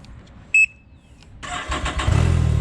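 A short electronic beep, then the engine of a 2020 Can-Am Ryker three-wheeled motorcycle cranks and fires up, settling into a low, steady idle rumble.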